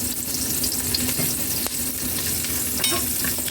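Shallots fry in hot oil in a pan with a loud, continuous close sizzle and a few faint scrapes, no voices.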